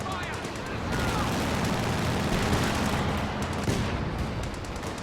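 Sustained dense firing from a US quad anti-aircraft gun in Company of Heroes 2, a loud continuous clatter of rapid shots layered with battle noise, with a voice talking over it.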